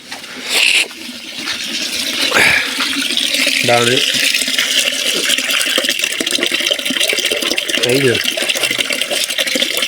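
Water runs from a tap into containers in a continuous gushing rush with splashes and shifting tones as the vessels fill, while people talk over it.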